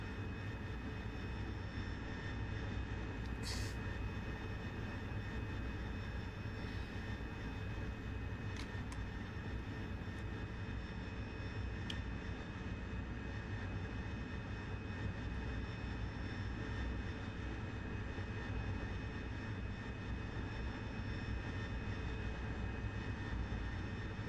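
An aircraft engine drones steadily in flight in the DCS World combat flight simulator, a constant even roar with a low rumble and high whine, unbroken for the whole stretch apart from a few faint clicks, no talking.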